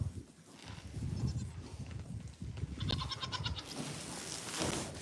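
A goat on a farm, an adult doe, bleats in short wavering calls over steady background farm noise, moderately close but not loud.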